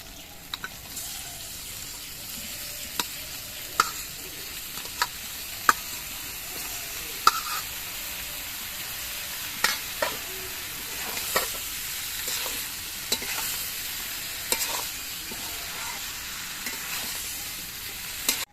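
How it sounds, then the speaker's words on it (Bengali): Boiled vegetables being stirred into ginger paste frying in a pan, a steady close sizzle broken by regular scraping clinks of the spoon against the pan, with no voices. "এরপরে এর মধ্যে আমি সেদ্ধ করা সবজিগুলোকে দিয়ে দিচ্ছি"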